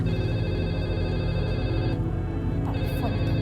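A telephone rings with a steady electronic trill at moderate loudness, running beneath a dense background of music and ambience with no talk.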